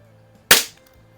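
A Crosman 760 first-variant air rifle fires a single pellet, a sharp close crack with a short fading tail in otherwise quiet surroundings.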